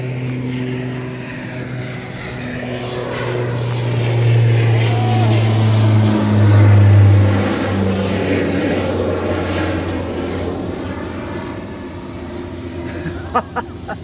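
A propeller airplane passes overhead with a steady, loud engine drone that swells around the middle and then eases off, with faint voices in the background.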